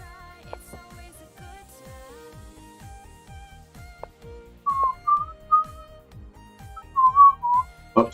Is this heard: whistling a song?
yes